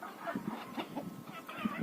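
Faint, soft clucking from a few roosters in a poultry yard, short low calls scattered at an irregular pace against quiet background noise.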